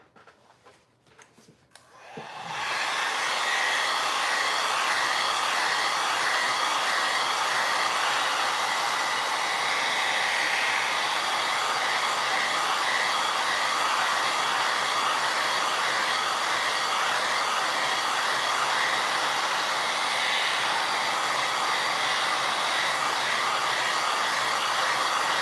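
A hair dryer blows steadily on a freshly poured mould, switching on after a couple of seconds of quiet handling noise, then a loud, close, continuous whooshing whir that holds unchanged to the end, with no talk.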